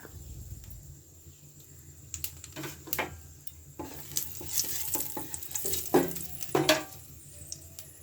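Asafoetida and nigella seeds crackle in hot oil for masala okra (vendi), a steady faint sizzle broken by sharper pops and stirring clatters that swell toward the end.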